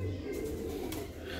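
Pigeons in a loft coo softly and continuously, with a steady low murmur of birds close by and faint background noise.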